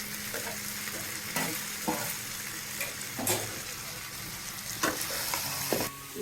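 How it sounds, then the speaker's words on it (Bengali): Potatoes stirred into duck meat frying in a pan, with a continuous sizzle broken by several sharp scraping and clattering stirs at irregular intervals, close and fairly loud. "এখন আলুগুলো দিয়ে দিচ্ছি।"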